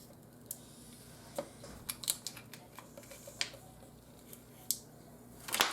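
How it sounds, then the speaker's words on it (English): Vinyl transfer sheet being peeled off its backing on a Brother Scan N Cut coffee-tray craft project, a run of faint, close crackles and sharp ticks that ends in a louder tearing rasp. "Okay, let's peel this off."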